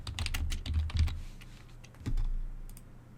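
Quick typing on a computer keyboard in Windows 10, with close, soft key clicks in rapid uneven bursts and a short pause in the middle, and no talking.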